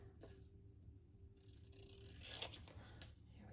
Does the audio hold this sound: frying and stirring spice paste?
no